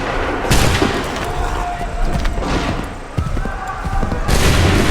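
Musket volleys in the video game Assassin's Creed 3, booming massed gunfire with heavy low rumble in several surges, shouted commands mixed in beneath the roar.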